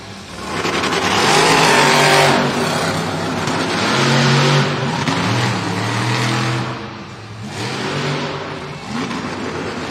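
Zach Garner's Wild Side monster truck roars through a timed racing run at a Monster Jam event in Tampa, Florida, its loud engine revving and surging steadily across the whole stretch with no pause.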